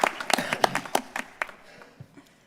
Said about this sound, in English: Round of applause for our music.